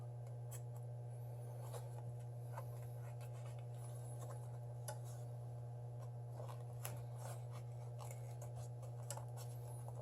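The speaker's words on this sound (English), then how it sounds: "You have to unfortunately cut through this very thick adhesive." A blade slices through thick waterproofing adhesive on a Samsung Galaxy S7 during a glass repair, producing soft, scratchy cutting ticks over a steady low electrical hum, faint and continuous.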